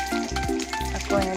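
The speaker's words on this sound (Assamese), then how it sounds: "এতিয়া মই আলুগুটিখিনি আৰু মাংসখিনি ইয়াত ফ্ৰাই কৰি ল'ম।" Potato pieces and pork frying together in a pan give a short, close burst of sizzling, broken by a few ringing, scraping strokes of stirring.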